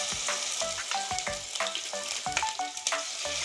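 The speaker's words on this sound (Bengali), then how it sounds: "এখন আমি দিয়ে দেব আদা বাটাটা" Ginger paste fries in hot oil over tempered spices for a thin chicken curry, crackling softly and continuously while a spoon stirs with frequent light clinks and scrapes against the pan.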